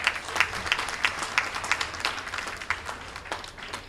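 Audience applause at a Liberian association's 50th anniversary celebration, a steady patter of many hands clapping with scattered louder claps, moderately distant and continuous throughout.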